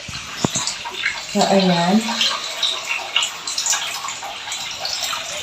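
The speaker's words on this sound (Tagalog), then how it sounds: "Okay pa ang aming daloy ng tubig." Tap water running for laundry near a washing machine, a steady, close gushing flow with splashing, a brief sharp knock near the start and a short spoken phrase over it.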